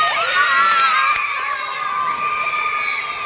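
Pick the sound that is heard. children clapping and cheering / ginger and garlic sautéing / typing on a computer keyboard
children clapping and cheering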